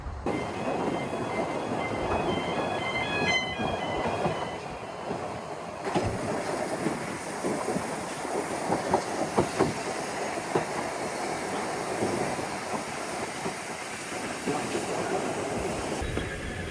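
A narrow gauge steam train on the Isle of Man rumbles steadily along rails with rhythmic clacking and a faint high squeal, loud and continuous throughout.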